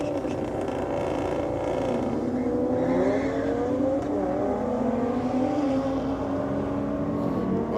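BMW and Audi cars racing side by side down a drag strip at Sydney Dragway, engines roaring loud and continuous with rising, shifting pitch throughout, a dense mechanical drone with no talk.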